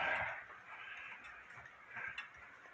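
Faint, steady ticking of a French Morbier/Comtoise pendulum clock during repair, a handful of light regular ticks over a low background hiss with no talking.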